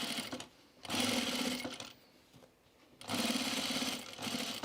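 Sewing machine stitching the seam of a shirt cuff, running in two steady bursts of even mechanical whirring separated by a short pause, close and fairly loud with no voices.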